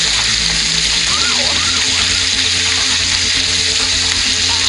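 Thick-cut beef fries in a wok over medium heat with a loud, steady, close sizzle and a faint stirring scrape underneath.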